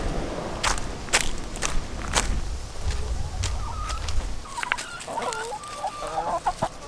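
Chickens cluck and chatter nearby, with scratching and shuffling sounds and a low rumble early on.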